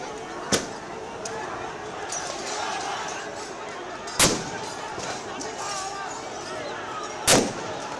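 Gunfire at protesters in Nepal sounds as three sharp, loud bangs spread several seconds apart, over a steady roar of a crowd and voices in the street.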